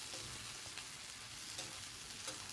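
Mustard seeds, cumin and curry leaves frying in hot oil, a quiet continuous crackling sizzle with occasional small pops and stirring clicks, no voices.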